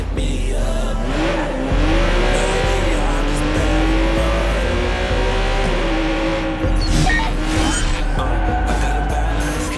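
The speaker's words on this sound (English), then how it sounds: "Let's park our car past the scissor lift and go scout the place on foot." A car driven in the video game Watch Dogs 2, its engine droning loud and steady with rising and falling revs, tire squeal and skidding mixed in, continuous throughout.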